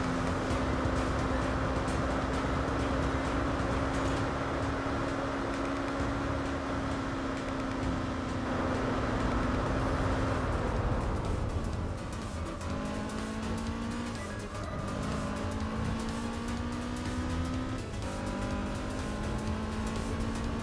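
Racing-game car engine from Gran Turismo 4 with the engine volume turned down, a steady drone that shifts pitch through gear changes, with tire squeal, continuous and fairly loud throughout.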